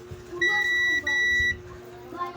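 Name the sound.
buzzer test while troubleshooting a Bluetooth speaker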